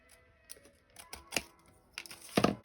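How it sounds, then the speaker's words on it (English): A few sharp, quiet snips and crisp paper rustles as the edge of a paper page, cut from a Dollar Tree gift bag or calendar, is trimmed for an art journal, in irregular bursts with a louder cut near the end. "I'll just trim the edge."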